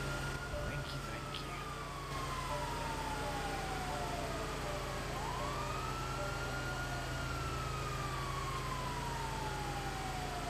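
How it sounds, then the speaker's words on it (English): An ambulance siren in the video game GTA wails, sweeping slowly up and down in pitch over a steady engine drone, loud and continuous throughout. "I realised I can't hear you over the sirens"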